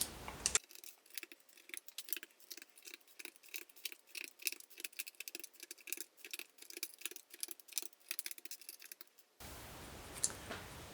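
Plastic keycaps are pried one after another off a small HTangl Version 2 controller with a wire keycap puller, giving rapid close clicks and light snaps in a steady busy run, with brief room noise at the start and end.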